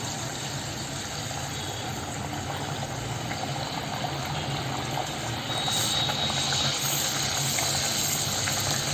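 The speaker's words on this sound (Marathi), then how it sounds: "आता आपलं तेल गरम झालेलं आहे आता आपण ना वडे तळून घेऊया" Vadas fry in hot oil for a Malvani thali, a steady dense sizzling hiss that stays loud and continuous throughout and thickens slightly partway through.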